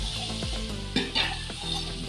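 Garlic sizzles in a pan with browned onion and chicken for a carrot chicken curry, a steady frying hiss with a few clinks and scrapes of a spoon against the pan partway through.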